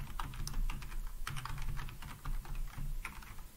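Fingers type quickly on a computer keyboard, producing close, crisp key clicks in uneven bursts over a low background hum.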